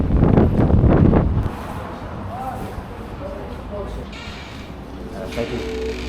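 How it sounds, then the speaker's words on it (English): Gusty wind buffets the microphone with a loud low rumble at first, then settles into a steadier, softer rush, with faint voices in the background. "Bro, it's so windy. It's so windy today."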